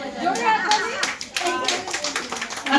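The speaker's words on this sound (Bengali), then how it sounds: "জোরে হাততালি।" An audience claps loudly at a Ghoti versus Bangal fish contest, a dense, sustained burst of applause close by, mixed with voices speaking over it.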